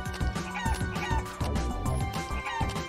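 Chickens cluck and squawk repeatedly in the game Realm of the Mad God, their rhythmic fowl calls mixing with busy combat effects and background game music.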